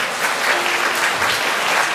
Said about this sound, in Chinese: 我们拍手来恭喜他们